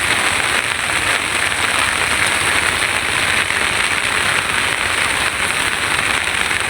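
Rain falls on a paddy field beside a village house, a steady, dense hiss of drops that continues unbroken and fairly loud with no voices.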